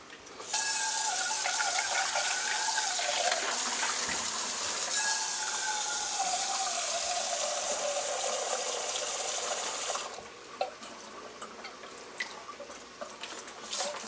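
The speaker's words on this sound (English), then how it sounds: "Take your pot, put some water." Tap water pours steadily into a cooking pot, being filled for steaming broccoli in a home kitchen. A loud, continuous hissing splash runs for about ten seconds, then cuts off, leaving faint drips and small clinks.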